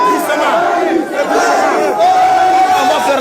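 A frenzied, dense crowd roaring and shouting in support of Dadis, a constant wall of massed voices close by with no pause across the whole stretch.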